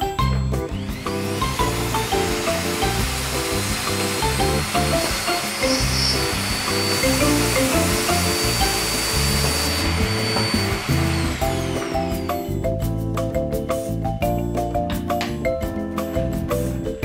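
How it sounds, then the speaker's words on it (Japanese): A vacuum cleaner hose pushed into the neck of a plastic drink bottle full of skin-on peanuts, running with a loud steady roar and rattling nuts for about twelve seconds before the sound shifts. "掃除機をペットボトルの飲み口に挿して、"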